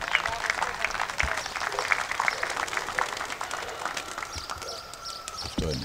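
Flying pigeons in a Greek pigeon-keeping session give off a steady stream of sharp, irregular wing claps, dense and crackling like scattered applause, with faint voices in the background.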